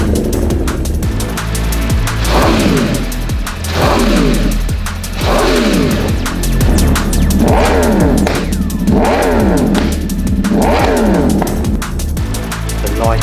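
An Aprilia RSV4 motorcycle fitted with an Austinracing Inconel exhaust revs repeatedly, its engine note surging and falling in steady waves; loud and close throughout with no talking.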